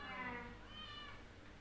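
A faint cat meow rises briefly at a distance through background noise, with a person talking nearby in a home where a bird is also around.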